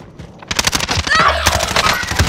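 Rapid automatic gunfire in a Call of Duty Warzone match rattles in dense, loud bursts after a quieter opening, with brief game voice cues mixed in.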